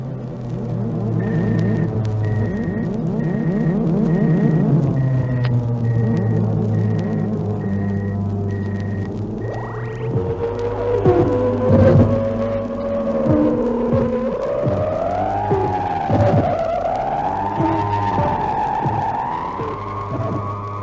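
A spaceship in a radio drama decelerates below light speed, heard as a loud, continuous electronic hum with throbbing tones that slide downward, then wobble and warble. No one speaks.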